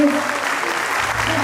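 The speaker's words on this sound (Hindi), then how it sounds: "आप सभी से अनुरोध है हम बच्चों का तालियों से उत्साह बढ़ाएं" An audience at a preschool annual day claps steadily and fairly loudly for the children, with voices mixed into the applause.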